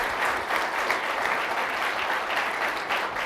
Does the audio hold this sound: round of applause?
yes